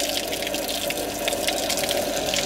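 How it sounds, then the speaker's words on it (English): Borehole water pump running from a tanker, with clean water gushing and spraying out in a steady hissing rush that holds level throughout, no voices. "now this is running from our tanker here, the pump kick in"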